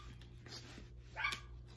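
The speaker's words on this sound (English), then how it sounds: "My dogs are watchdogs. If they see anybody or hear anybody or think they hear anybody, they're gonna bark." Pet watchdogs bark at an apartment's open back door, giving a few quiet, sharp barks with a brief higher yip near the end over a low steady hum.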